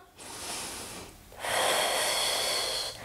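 Deep breathing during a full-body stretching and flexibility exercise: a short breath in, a pause, then a longer, louder, airy breath out, close to the listener with no talking.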